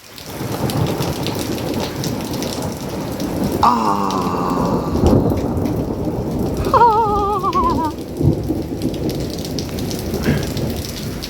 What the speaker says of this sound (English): And the thunder.